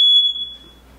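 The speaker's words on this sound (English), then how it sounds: "these smoke detectors be trying me." A single sharp, piercing smoke alarm chirp sounds loudly, then cuts off and fades into near silence.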